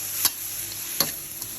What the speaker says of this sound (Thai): แล้วก็ใบมะกรูดครับใส่ลงไปเลยครับ ผัดให้เข้ากันนะครับ